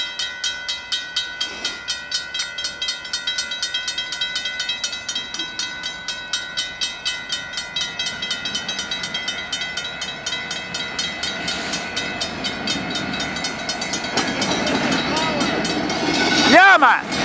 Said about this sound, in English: Here come the freight.